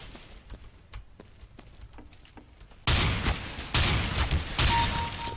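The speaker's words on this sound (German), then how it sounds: "3 Schuss mit der Schrot, aber es hat gelangt." Counter-Strike: Global Offensive gunfire: a series of sharp shotgun blasts, with a few spaced shots first and then loud, rapid bursts crowding together.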